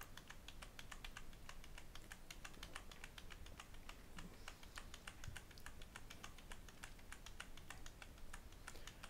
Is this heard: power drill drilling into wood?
no